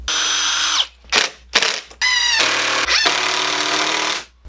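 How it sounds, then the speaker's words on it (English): A power drill whirs loudly in several short bursts, pre-drilling pilot holes in wood for screws, stopping and starting between holes, with a longer run at the end. "pre-drill some holes, and then add some screws"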